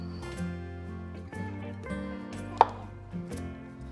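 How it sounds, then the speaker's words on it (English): A knife chops cremini mushrooms into chunky pieces on a board, a run of soft, fairly regular thuds with one sharper knock partway through. The chopping is close and steady, with no talk. "next we're gonna cut up some mushrooms"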